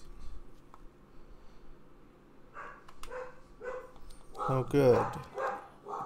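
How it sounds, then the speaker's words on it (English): A dog barks a few times in a street scene of the game Mafia: Definitive Edition, short sharp yaps rising over quiet ambience while characters speak around it. "Dog noises."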